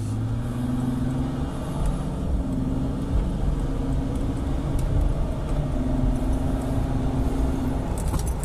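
A Ford Sport Trac engine fitted with a cold air intake rumbles in a low, steady drone with rising and falling tones as the revs shift, heard from inside the truck with road noise and no speech.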